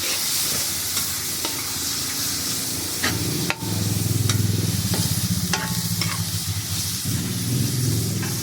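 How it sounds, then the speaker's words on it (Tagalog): Pork pieces browning and frying in a pan for pork kangkong, a steady loud sizzle with stirring and scraping clatter, occasional sharp utensil knocks against the pan. "Pula-pulahin muna natin tong karni natin."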